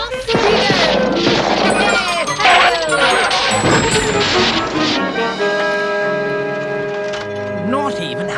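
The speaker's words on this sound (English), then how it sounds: "Just keeps smashing the things up." Cartoon car crash from an animated Wind in the Willows, with Toad smashing up a car: loud clattering smashes and bangs, then ringing chimes and tinkling music, with voices over it.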